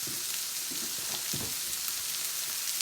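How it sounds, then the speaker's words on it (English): Rice for paella frying in a pan gives off a steady, soft sizzle, with a few faint stirring scrapes and no voices. "the rice has been frying away for about 4 or 5 minutes now"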